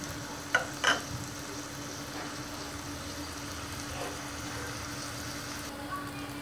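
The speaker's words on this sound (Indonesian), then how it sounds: "menggunakan minyak sisa menggoreng bawang merah itu digunakan untuk menumis bumbu bawang putih dan lada" Garlic and black pepper paste sautéing in oil left over from frying shallots, a quiet steady sizzle with a couple of brief utensil scrapes near the start, heard alone.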